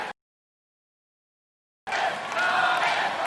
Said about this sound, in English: Listen to the crowd, Matt.